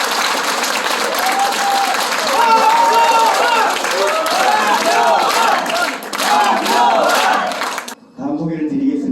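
An indoor audience at a People Power Party district office event in Mungyeong gives former Prime Minister Hwang Kyo-ahn loud, sustained applause mixed with cheering voices, dense and continuous for about eight seconds before breaking off abruptly.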